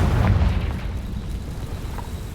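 A Confringo fire spell explodes in the game Hogwarts Legacy, a loud low boom at the start that rumbles and fades over a couple of seconds, with a small pop near the end.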